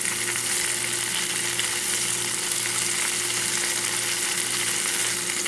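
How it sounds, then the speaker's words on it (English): King's Hawaiian bread French toast fries in a pan with a dense, even sizzle, steady and close with no break, and no voices over it. "So we're just going to flip them, let them cook on all sides."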